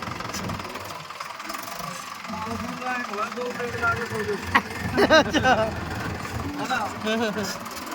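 A tractor engine labours and revs while stuck in a muddy, puddled field, its rough mid-pitched drone rising and falling throughout, with raised human voices breaking in over it around the middle.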